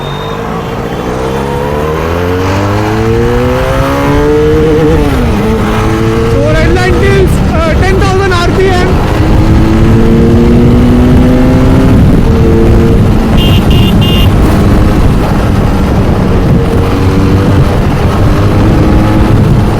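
Benelli Leoncino 500 scrambler motorcycle ridden out, its engine rising through repeated revs and gear changes with rising and falling pitch, loud and close, and steady wind and road roar.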